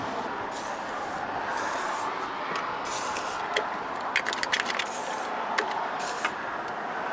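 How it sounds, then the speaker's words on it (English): A steady hiss of CRC aerosol spray on a car battery clamp runs almost continuously, broken by a few short pauses and small clicks near the end. "So I'm going to get some CRC and I'll quickly spray that on there"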